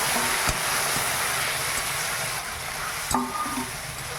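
Chicken curry sizzles steadily in a pan after onion and ginger-garlic paste, with a couple of sharp scrapes as it is stirred; a continuous close frying hiss with no voices.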